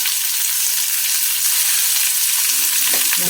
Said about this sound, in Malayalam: അപ്പം നമുക്ക് ആദ്യം ചെമ്മീൻ ഒന്ന് വറുത്തെടുക്കാം